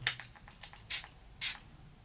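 A few short, soft hissing bursts of a makeup setting spray mister, four or so quick puffs close by in a quiet room.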